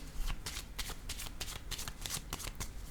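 Tarot cards handled and laid down during a card reading, a quick run of soft papery slaps and shuffling flicks repeating close by, with no talking.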